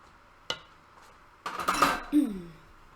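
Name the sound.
mixing crack pie crumb with melted butter in a bowl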